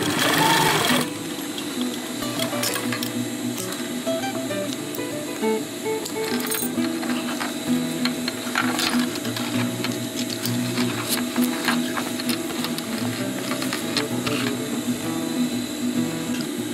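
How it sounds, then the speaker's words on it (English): A sewing machine stitches a 30-liter backpack in a steady, close, continuous whir with small clicks and clinks throughout; no talking is heard. "And sew it over."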